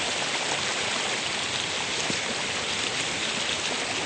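Water from an overflowing fishpond rushes in a strong current through a fish trap, a loud, continuous broadband roar of flowing water without pause, close by and unbroken throughout.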